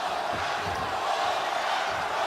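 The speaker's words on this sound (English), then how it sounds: "Crowd starting to chant here as we come to the end of 8" Spectators at a professional boxing bout between Emanuel Navarrete and Oscar Valdez chant near the end of round 8, a dense, steady roar of massed voices filling the arena without pause.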